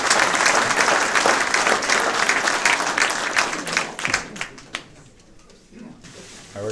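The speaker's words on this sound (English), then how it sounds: "Please give him a warm round of applause." An audience gives a warm round of applause, full, dense clapping that thins into scattered claps and then fades to near quiet, with voices in the room.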